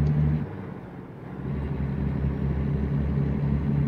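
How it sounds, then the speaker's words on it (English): A Peterbilt 579 truck engine in a truck-driving game hauls up a mountain hill climb, a steady deep rumble with a low droning tone and turbo whine held throughout, loud and close with no talk. "Turbo sounds good in this truck too"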